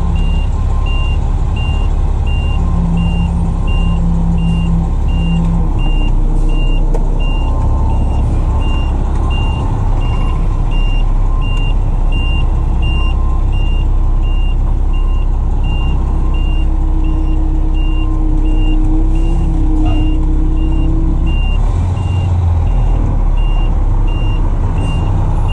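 A big truck pulls out with its reversing alarm beeping steadily and repeatedly over a low engine rumble, the beeps loud and close throughout with no voices.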